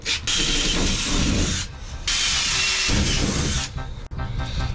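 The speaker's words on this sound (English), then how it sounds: "gotta drill holes for the top." A power drill bores holes in the roof of a bread truck, whirring loudly in two long sustained bursts separated by a short pause, with sharp clicks as the trigger starts and stops.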